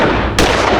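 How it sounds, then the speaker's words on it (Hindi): Gunfire in a Crime Patrol Satark crime drama scene: a loud, sharp report at close range bursts in mid-clip over an already dense, noisy background, with no talk. "विवेक पे गोलियां दाग दी"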